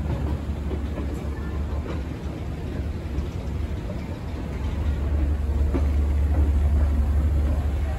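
Disney monorail gliding past the Contemporary Hotel lobby at night, a steady low rumble and rolling rail noise that swells slightly toward the end, heard from inside the building with faint ambient murmur.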